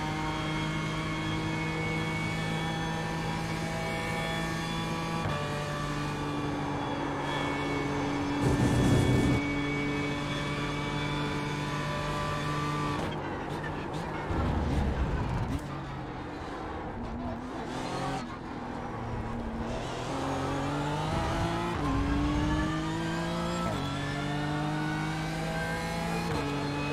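BMW M4 GT3 race car engine in the iRacing simulator, a steady loud drone with strong harmonics, revving up and down through gear changes with brief bursts and shifts in pitch over about half a minute.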